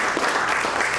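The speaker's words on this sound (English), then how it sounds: "So I just want a great round of applause for those folks for putting everything together." A brief burst of dense, loud audience applause fills a university event hall at PSU, steady and even with no voices.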